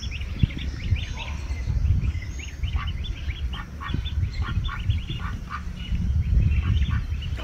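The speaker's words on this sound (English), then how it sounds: "The adult geese are not sure what's going on." Adult geese honk and squawk repeatedly in a busy chorus, close by, with a low rumbling background underneath, as goslings are brought among them.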